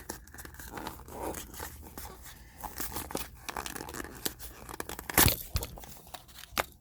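A Fairfield 100-card box pack is ripped open up close, with bursts of tearing, crinkling and crumpling packaging and one sharp louder rip near the end, and no talking.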